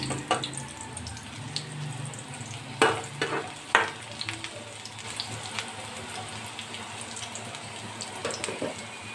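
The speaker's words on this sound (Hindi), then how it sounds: "ऑयल ले लिया, इसमें प्याज ले लूँगी।" Sliced onion drops into hot oil in a pan for an eggplant raita, giving a soft, steady sizzle punctuated by a few sharp clanks and stirring knocks, fairly close and moderately quiet.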